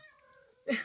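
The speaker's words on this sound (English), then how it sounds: "Sorry, that's my cat." A pet cat lets out a drawn-out, tonal meow in a quiet indoor room, followed by a sudden louder, rougher sound at the end of the short clip.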